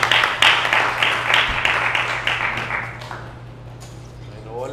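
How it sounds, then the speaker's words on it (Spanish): Audience applause at a planetarium talk show, a burst of clapping that swells early then fades away, with a brief faint tone near the end. "Muchas gracias, un aplauso."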